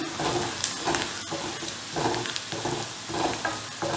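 Kolhapuri onion-garlic masala being sautéed in a pan, a steady sizzle with rhythmic stirring scrapes rising and falling throughout, close and moderately loud.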